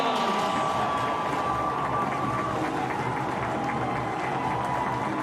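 Crowd roaring after a long-pole goal in an NCAA men's lacrosse tournament game, Virginia versus Bryant, a sustained loud stadium cheer with scattered clapping, steady throughout.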